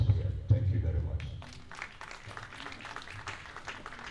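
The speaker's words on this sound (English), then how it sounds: "A round of applause once more for him" At a formal conference on Nigerian foreign policy and security, a speaker's voice gives way to a broad, steady rattle of audience clapping for a police representative. The applause is moderately loud and continues to the end.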